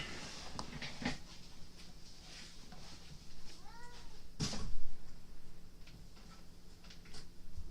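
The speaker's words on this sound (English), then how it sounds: "Cat." A cat meows once, a brief rising-falling call at mid distance over a quiet room, with scattered clicks and tapping around it.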